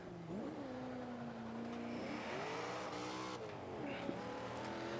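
A car engine in Forza 5 revs and climbs through the gears, rising and falling in pitch with sudden shifts and a brief tire squeal, loud and continuous.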